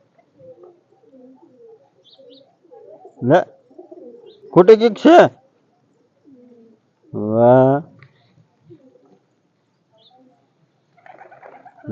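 Low, harmonic pigeon coos surface among scattered chatter, with a longer, steady coo standing out near the middle and people talking intermittently.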